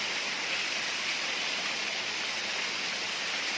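A tall waterfall on a creek roars in a constant, broad, even rush of falling water, heard up close and alone with no voices.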